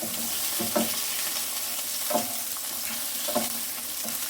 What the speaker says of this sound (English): You see we're getting some good browning on the meatballs.